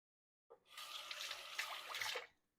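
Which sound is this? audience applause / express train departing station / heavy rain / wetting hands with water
wetting hands with water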